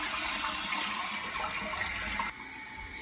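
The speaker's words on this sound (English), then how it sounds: "When you flush your handle, it lifts this lever up and this lets the water out." A household toilet flushes as the handle lifts the flapper, a loud close rush of draining water that drops abruptly in level near the end and continues more quietly.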